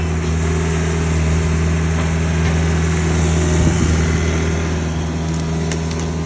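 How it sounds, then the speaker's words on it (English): Takeuchi RB250-2 machine engine running steadily while taking down pine trees, a constant mid-pitched drone with a low hum throughout and a slight surge partway through, close and loud with no talking. "Takeuchi RB250-2 taking down some pine trees."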